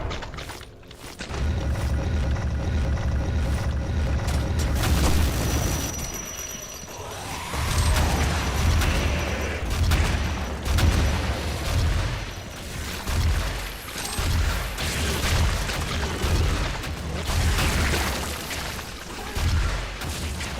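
Rocket launcher fire in a Quake mod, with rockets whooshing out and exploding in repeated heavy booms over a loud, dense game soundscape, no talking.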